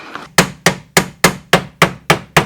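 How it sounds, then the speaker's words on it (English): Eight sharp metallic hammer blows on car wheel metal, struck at a steady, even pace, each ringing briefly before the next, close and loud with no talking. "Don't hit it with the hammer"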